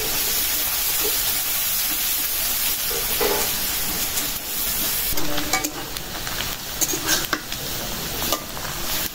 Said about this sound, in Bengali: পেঁয়াজটা ভেজে নিলাম, দিলাম কাঁচামরিচ,